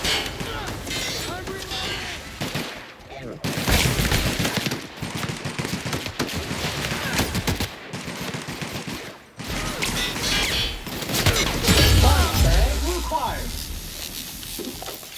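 Bursts of automatic gunfire in the sci-fi shooter The Outer Worlds, loud and sustained with short gaps, while someone talks over the shooting.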